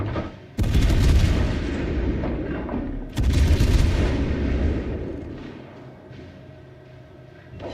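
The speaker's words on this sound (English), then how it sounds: "That was a beautiful hit from the Iowa." Naval guns of the battleship Iowa firing in the video game World of Warships Legends: two heavy, booming salvos a few seconds apart, each followed by a long, deep rumbling decay that fades toward quiet.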